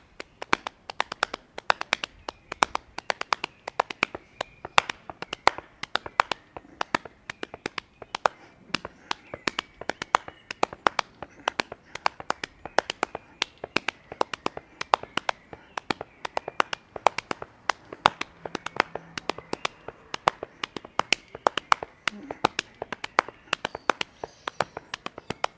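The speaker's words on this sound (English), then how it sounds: "I've been playing offbeat sextuplets with my feet alternating between my two feet" Rhythmic tapping of an offbeat sextuplet pattern in 3/4, played with hands and feet: dense, steady, close percussive taps repeating evenly throughout with no speech.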